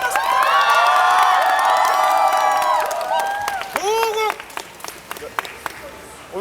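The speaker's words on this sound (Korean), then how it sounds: "힘찬 박수." Loud crowd applause and cheering at an outdoor Korean election campaign event in Daejeon, with shouts and whoops over the clapping. It tapers off into scattered claps and voices.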